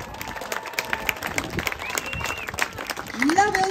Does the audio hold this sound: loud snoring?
no